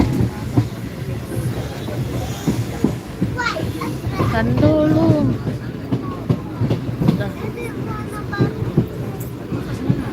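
A train between Alappuzha and Kozhikode in Kerala rolls along the rails with a rhythmic clatter, while children chatter and call out close by over the steady rumble.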